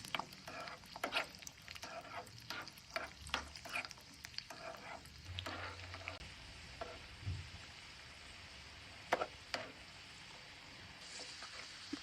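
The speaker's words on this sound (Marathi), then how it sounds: "आपल्याला लसूण हा गोल्डन ब्राऊन होईपर्यंत फ्राय करायचा आहे" Half a bowl of garlic fries in a pan until golden brown, a soft steady sizzle with scattered crackles and occasional stirring clinks, faint and close.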